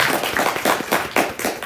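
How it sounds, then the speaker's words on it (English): Audience clapping at a Black History Month celebration, a brief round of applause with dense, steady claps and no voices over it. "A round of applause for Sheila."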